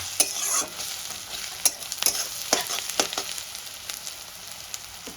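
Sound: frying ginger garlic green chilli paste with browned onions

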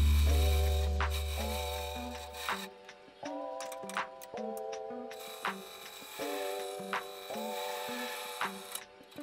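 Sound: turning caps on a lathe for camera stabilizer

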